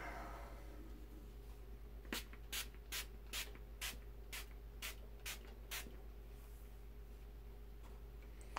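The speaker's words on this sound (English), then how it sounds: "Finishing spray." A makeup finishing spray pump-mist bottle fires about nine quick, sharp hissing bursts in a regular rhythm, close and fairly quiet against a low background hum.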